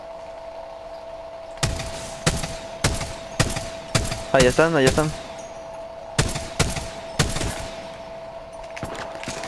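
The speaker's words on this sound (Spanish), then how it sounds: "Ok, se escucharon disparos." Rapid bursts of automatic gunfire in the video game Apex Legends crack out in repeated loud volleys with short pauses between them, while someone speaks briefly over the shots.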